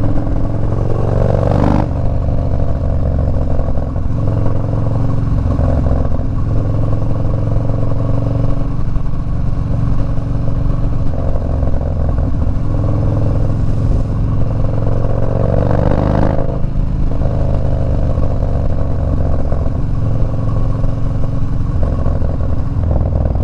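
Harley-Davidson Dyna FXDB with a 103 engine and a Woods TW-222 cam, idling loud and close with a lumpy, uneven rumble and two sharp throttle blips, one early and one midway, steady and continuous throughout.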